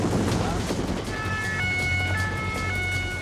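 A gendarmerie patrol boat's siren wails in stepped, steady tones as the boat chases a speedboat at sea off the Marseille–Saint-Tropez coast, heard over a constant loud roar of engine and wind.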